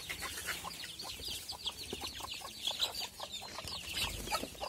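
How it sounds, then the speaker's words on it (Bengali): Hens and chicks gather at feeding time for scattered rice, with rapid, overlapping high peeps from the chicks and occasional clucks from the hens. The chorus sounds close but fairly soft and runs continuously. "মুরগির ছানা পোনা সব এসে হাজির।"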